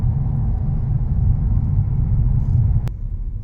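A Jaguar car accelerating, heard from inside as a loud, steady low engine rumble and road drone with a single brief click near the end.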